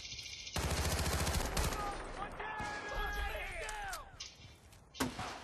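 Rapid automatic gunfire from an XM8 rifle in the video game Battlefield: Bad Company 2, loud dense bursts, then game effects and shorter shots, with talking over parts.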